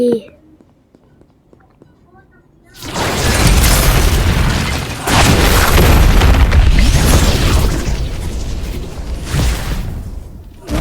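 Wall-breaking explosion in a Roblox battleground fighting game: after a quiet start, a loud, dense burst of crashing rubble and booms erupts around the third second and rumbles on continuously to the end, with a brief dip midway.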